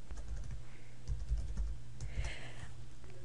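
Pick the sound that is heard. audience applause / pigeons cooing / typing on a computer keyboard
typing on a computer keyboard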